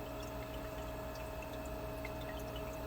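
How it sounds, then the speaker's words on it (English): Nutrient water churns steadily in a Moistenland hydroponic system, with a constant low swishing and bubbling wash, faint drips on top, and no voices. "water swishing around, it's just a system mixing the water up"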